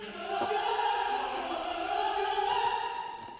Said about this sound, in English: We also got choir, and it's layered with the strings.